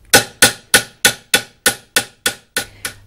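A hammer strikes metal about ten times in a steady, even rhythm, each blow ringing sharply and decaying quickly, close and clear with no voices.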